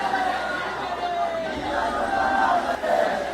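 A large crowd of party workers fills the grounds of the Velikkakathu house, gathering around a leader's body draped in a red flag. Dense, steady chatter and babble from many voices carries on throughout, with a louder surge partway through.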